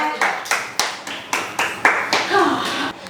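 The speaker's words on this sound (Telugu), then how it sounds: "క్లాప్స్." Hands clap at a game show in a quick, steady run of about eight sharp claps, close and fairly loud, with a brief murmur of voices near the end.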